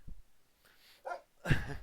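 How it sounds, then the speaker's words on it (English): A pet dog barks indoors in a few short, separated yaps, the last the loudest, fairly close but not very loud, with no talk over them. "my dog is losing her mind right now"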